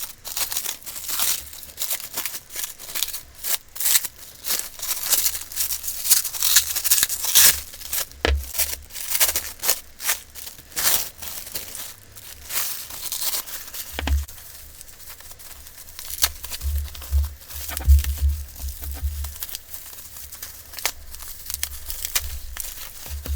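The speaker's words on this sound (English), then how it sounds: "So let's unwrap them and get into them" Slime packages wrapped in bubble wrap and cling film being unwrapped by hand: continuous close crinkling, crumpling and tearing of plastic in irregular bursts, with occasional louder handling thumps and no talk.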